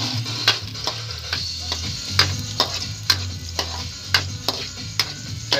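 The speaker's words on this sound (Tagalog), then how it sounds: "Lagay na tayo ng bawang" Garlic sautéing in a pan, a steady frying sizzle broken by regular scraping and clinking strokes of a spatula, close and clear.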